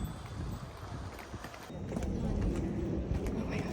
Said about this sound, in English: Oh, and the donkeys are here.